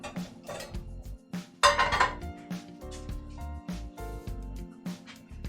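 Canned beans tumble into a pan already sizzling with pork, giving a loud rattling clatter of metal and clinks over steady frying hiss, with a brief louder burst as they land.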